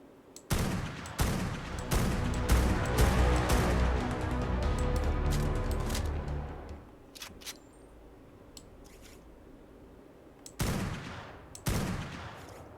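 Rapid bursts of gunfire crackle through a fight in the video game ARK Survival Ascended, a dense volley for several seconds and then scattered single shots, loud and close.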